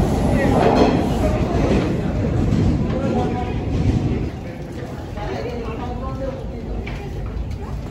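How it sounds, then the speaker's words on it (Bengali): A tourist train on Toronto Island rumbles along with steady low-frequency noise and clattering, close and loud throughout, with people talking over it. "এইটাই হচ্ছে সেই ট্রেনটা।"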